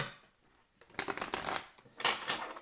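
Tarot cards being shuffled by hand make quiet, close riffling bursts, a short pause, then two rustling flurries of card edges.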